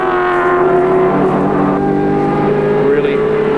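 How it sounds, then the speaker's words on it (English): A Holden Commodore touring car roars at full throttle down the straight during the 1986 Surfers Paradise endurance race, a loud, sustained engine drone that holds steady with a faint pitch shift, under a commentator's voice. "Brock will be right into it, and these Commodores do sound sensational."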